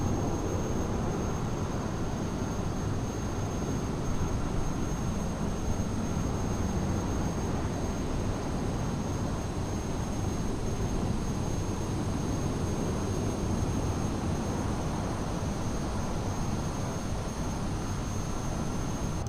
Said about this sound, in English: not very loud on the engine sounds, very anticlimactic, to be honest